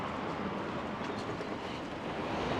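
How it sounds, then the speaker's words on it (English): A train running near the station at Swanage, a steady broadband rumble with faint rail noise, continuous and fairly close throughout. "The train is up here."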